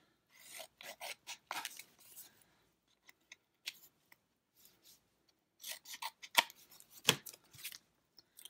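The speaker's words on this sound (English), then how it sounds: "I need to trim it a little bit." Scissors trimming a paper pocket made from scrap collage paper: quiet, close snipping and rasping in short irregular bursts, a pause with a few faint ticks, then another flurry of cuts.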